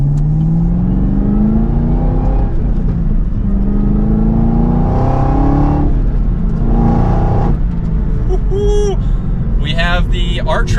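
A 2023 Chevrolet Camaro ZL1, rear-wheel drive on R888 tyres, accelerates hard from inside the cabin. The engine note climbs loudly through repeated rising pulls, with gear changes between them and a steady drone underneath.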